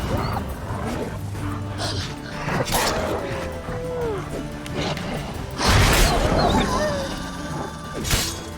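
Wolves in The Witcher 3 video game growl and snarl amid game sound effects and clashing impacts, fairly close and steady, with a voice talking over parts of it.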